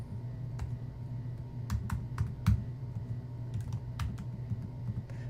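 Typing on a computer keyboard: scattered, irregular key clicks, fairly close and quiet, over a low steady room hum with no talking.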